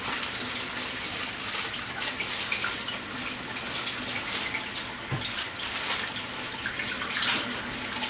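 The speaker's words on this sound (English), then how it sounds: "I'm running hot water over them" Steady gush of hot water running from a tap over yakisoba noodles, a constant broadband hiss with no talking.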